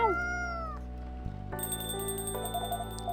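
A cat meows in Coffee Talk 2: Hibiscus & Butterfly, giving a short, gliding cry or two right at the start, followed by soft chiming tones and quiet background music.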